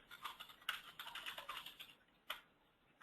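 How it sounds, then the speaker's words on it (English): Quiet, close keystrokes on a computer keyboard, a quick irregular run of clicks followed by a pause and a final tap. "You just either start typing to add a task type on the fly."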